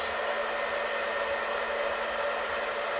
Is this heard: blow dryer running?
yes